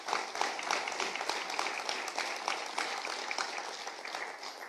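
A church congregation gives a sustained round of applause for Jesus, dense clapping held at a steady moderate level for several seconds, heard from within the crowd.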